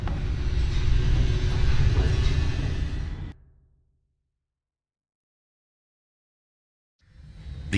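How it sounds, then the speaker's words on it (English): An elevator in The Stanley Parable: Ultra Deluxe rumbles loudly as it plummets downward, a heavy sustained roar that cuts off abruptly into silence before sound returns. "The elevator raced downward,"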